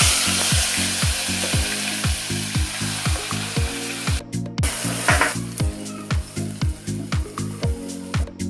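Ground masala paste frying in hot oil for a mutton dish, a loud continuous sizzle over a steady train of rhythmic scraping strokes from a spoon stirring the pan, with a brief pause midway.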